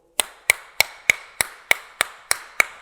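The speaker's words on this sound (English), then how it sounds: "You've made a nice big hole using your hammer and chisel" Nine sharp, evenly spaced metal-on-metal strikes of a hammer driving a chisel, about three per second, loud and close with a ringing edge to each blow and no talk.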